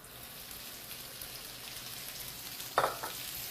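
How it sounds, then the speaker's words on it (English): Bacon sizzling in olive oil in a pan, a steady soft crackling hiss throughout with one brief sharper spatter near the end. "And then we're going to go in with the bacon."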